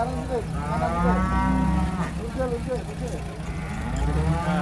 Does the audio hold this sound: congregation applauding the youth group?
no